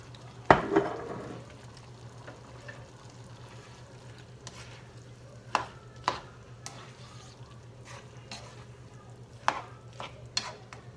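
Ground pork and beef seasoned with fish sauce, cooked Kapampangan giniling style, frying quietly in a pan as a utensil stirs it, with a few sharp scrapes and clinks spaced through a low steady hum.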